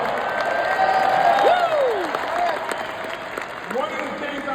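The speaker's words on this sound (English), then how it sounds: "give Johnny Red a round of applause" An arena crowd applauds during a basketball halftime ceremony for Derrick Rose, with steady clapping and some cheering under a loud, amplified voice speaking over it.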